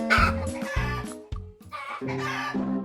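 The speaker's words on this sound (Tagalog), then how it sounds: "Narinig nyo yung mga alaga kong manok?" Several hens cluck nearby in short, repeated bursts, a brief sharp squawk breaking in midway.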